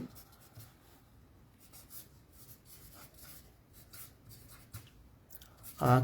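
Writing out exam questions on a board during a class, a faint scratchy stroking sound in short irregular bursts, quiet and fairly close, ending in a louder knock.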